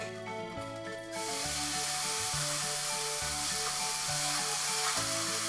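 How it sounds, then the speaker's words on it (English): Ginger and garlic hit hot oil and break into a loud, steady sizzle that holds evenly throughout, with quiet music playing underneath. "With a new tablespoon of oil, we add a teaspoon each of ginger and garlic."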